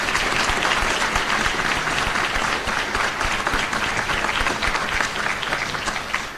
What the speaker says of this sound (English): could you please join me in a round of applause for all who participated?